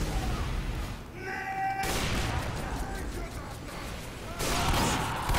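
Gunfire and a headshot in the team-based shooter Team Fortress 2, on the map cp_sunshine, with a burst of sharp, crackling shots over steady noisy game ambience.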